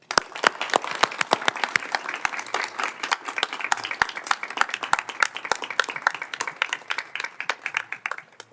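A round of applause breaks out at a Senate Judiciary Committee hearing: sparse, distinct individual claps from a modest group in a hearing room, continuing steadily for several seconds.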